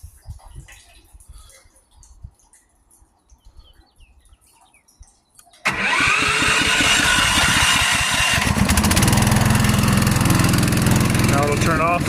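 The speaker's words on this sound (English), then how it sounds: "So that's the automatic start on this gas pump with the float system." A gas-powered water pump engine on a float switch system kicks on abruptly after quiet outdoor ambience with faint birds, then runs loud and steady with a droning, buzzing roar close by.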